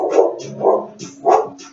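A dog barks three times in a steady rhythm, each bark loud and close, with short gaps between them and no other sounds around the barking.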